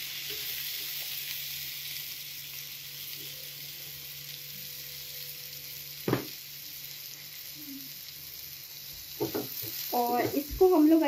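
Onions frying in oil in a pan during home cooking, a faint steady sizzle running under the whole stretch, with a sharp clatter midway and louder stirring and scraping near the end.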